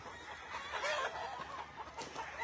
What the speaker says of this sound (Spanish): Miren cómo está llena de gallos